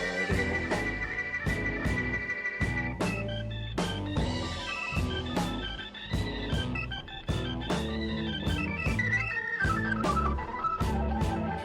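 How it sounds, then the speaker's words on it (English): A keyboard solo on an album track, organ lines running over full-band drums and bass, steady and fairly quiet. "Keyboard solo right here."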